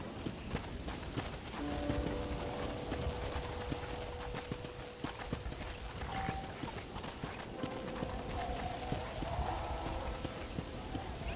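Horse hooves clip-clop at a steady walking rhythm across a Red Dead Redemption ranch, close and continuous, with faint ambient tones and a bit of background sound underneath.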